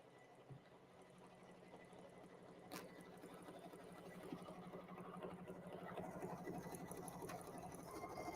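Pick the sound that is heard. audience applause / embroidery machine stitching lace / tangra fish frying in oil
embroidery machine stitching lace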